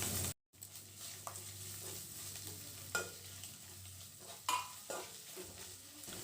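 Fried eggs are stirred into a spiced mixture in a pan for egg rice, producing a quiet, constant sizzle with a few clinks and scrapes of a utensil against the pan, broken by a brief moment of silence near the start.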